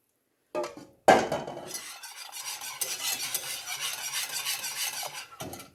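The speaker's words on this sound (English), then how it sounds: "Slowly adding this, the eggs. I'm going to whisk a little bit." A whisk stirs egg mixture into a pot while tempering a banana cream pie filling: a brief clatter, then steady, close scraping and swishing strokes that continue without pause.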